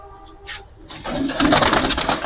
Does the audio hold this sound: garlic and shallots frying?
no